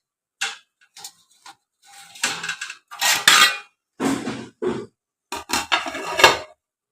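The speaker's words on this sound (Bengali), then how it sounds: "এবার ঢাকা দিয়ে দিচ্ছি" A metal lid set onto a cooking pot of split pea dal with vegetables, giving several sharp clanks and clinks in quick bursts, close and fairly loud, with short pauses between.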